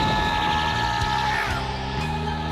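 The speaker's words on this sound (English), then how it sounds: "Using a combination of the wrench and the screwdriver helped me leverage more torque and then finally remove the screw" A wrench and screwdriver work a rusted screw loose on a Suzuki V-Strom SX 250 motorcycle, giving close, steady mechanical clicking and grinding with no talking.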